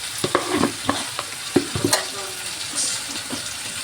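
Tomato chutney with salt being stirred in a hot pan while cooking a chicken curry, with a spatula scraping and clacking in quick irregular strokes over a soft sizzle, close and alone.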